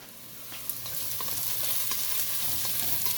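Onions fry in a hot pan with a steady, dense sizzle and crackle, a few light clicks of stirring scattered through it.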